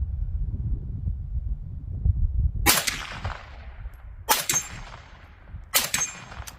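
Three sharp gunshots ring out at roughly even intervals during a range test of a Vector Optics Frenzy 1x18x20 enclosed red dot sight, each a loud crack with a short decaying tail over low rumbling wind noise.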